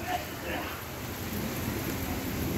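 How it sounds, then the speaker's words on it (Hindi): Heavy rain pours steadily in Jhansi, India, a dense continuous hiss with low rumbling that may be thunder, loud and close throughout with no voices. "आप सामने देख सकते हैं बारिश तेज हो गई है।"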